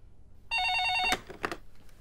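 A telephone rings once in a law office reception area as someone calls an assistant. The electronic ring is steady and clear for about half a second, then stops abruptly and gives way to brief handling clatter.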